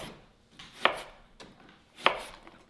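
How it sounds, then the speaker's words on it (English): A knife slicing through a lemon on a cutting board, two crisp separate chops about a second apart, close and clear with quiet in between. "So we'll do a nice slice of lemon."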